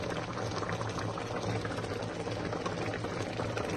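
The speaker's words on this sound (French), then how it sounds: "Et on va porter tout cela à ébullition. Je couvre ma casserole." A village-style sauce with onions, garlic and palm oil boils in a covered saucepan, giving a steady, dense bubbling and hissing that stays even throughout at a modest level.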